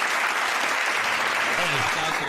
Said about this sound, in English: We give him a round of applause, man, one time.